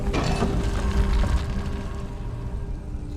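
In Skyrim, a weighted-platform mechanism opens a hidden door: grinding mechanical clanks and ratcheting gears rumble for a few seconds, loud at first then settling into a low drone.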